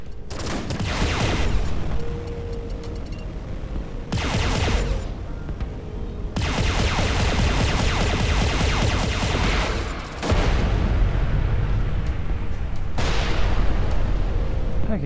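Space combat in the video game Everspace 2, with repeated heavy explosions and bursts of rapid weapon fire arriving in several loud booming waves, each followed by a lingering rumble.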